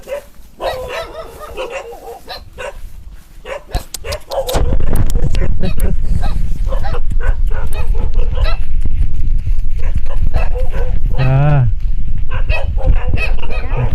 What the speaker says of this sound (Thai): หมาเยอะจังเลย